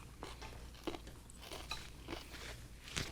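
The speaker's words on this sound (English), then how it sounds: "Everything's still crunchy." Fresh salad being eaten, with repeated soft crunching bites spread across a few seconds, close and fairly quiet, with no talking.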